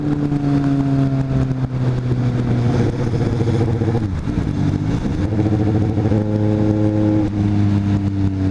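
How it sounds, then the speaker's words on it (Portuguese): Several motorcycles ride along the Rodovia dos Bandeirantes highway, their engines droning loudly and steadily, with a brief dip and revving shift midway before the steady roar resumes. "Várias motos, tem 10 motos no rolê."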